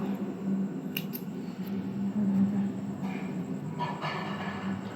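Scissors snip crochet yarn up close in two quick, crisp cuts, then a few softer snips and handling noises follow over a low background hum.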